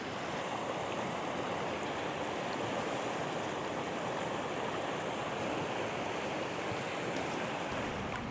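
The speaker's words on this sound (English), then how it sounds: "Look at that waterfall." Waterfall pouring into a gorge in Kalbarri National Park, heard as a steady, dense roar of falling water that holds at an even loudness from start to finish, with no voices.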